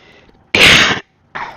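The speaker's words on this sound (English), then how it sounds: "Cough." A person gives a single sharp, loud cough up close, followed by a short pause and a quieter second burst. It happens during a gaming session.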